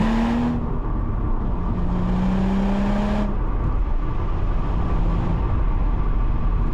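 Recorded from outside at the rear of the car, the engine hums and revs steadily while driving, with a continuous close drone and shifting tones throughout.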